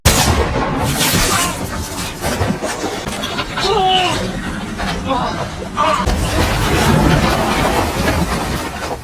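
Sniper gunshots from the film The Wall strike a wall in a war-zone desert scene, a dense, loud barrage of cracks and impacts layered with rumbling noise and some voices throughout.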